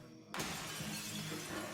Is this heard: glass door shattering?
yes